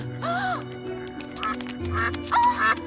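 A cartoon bird quacks in a few short nasal bursts, close and loud, over a low sustained musical tone in an animated show.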